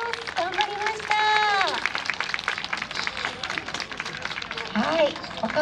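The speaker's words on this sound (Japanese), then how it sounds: "もう一度大きな拍手をお願いします。" Audience clapping after a children's shishi odori deer dance at an outdoor festival in Kesennuma, Miyagi, a steady crowd applause under an announcer's voice speaking over a PA system.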